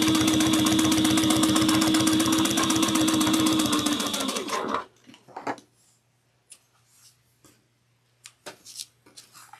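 Sewing machine top stitching a fabric clutch wallet, a steady rapid mechanical stitching hum for about four and a half seconds, then stopping, followed by faint handling clicks and rustles.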